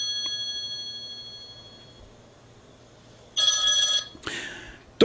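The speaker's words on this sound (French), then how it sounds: "téléphone eleli" A telephone rings in two bright, clanging bursts, each under a second long, following a faint lingering tone.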